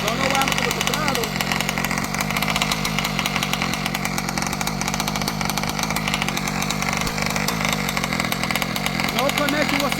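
An ALX 71cc engine idles with a steady, dense buzzing rattle that continues without a break, while people talk over it.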